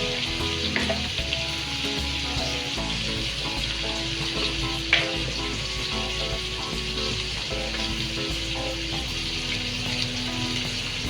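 Goat head meat with fish masala and ground coriander frying in a pan, a loud continuous close sizzle with steady stirring and a sharp clink of a utensil midway.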